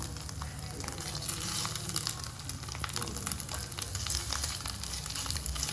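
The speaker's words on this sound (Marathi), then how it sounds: "त्याची थोडी अंडी शॅलो फ्राय करून घेऊया आपण" Eggs shallow frying in a pan over a low gas flame with turmeric, giving a steady, close crackling sizzle with no voices over it.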